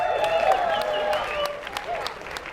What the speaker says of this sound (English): Let's give a round of applause to the beautiful family that made this possible today.